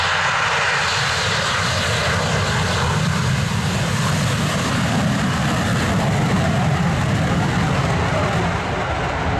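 A Russian Air Force Yakovlev Yak-130 twin-turbofan jet with Progress AI-222-25 engines roars steadily and loudly as it begins its takeoff run at an airshow, a dense continuous jet rush with no letup.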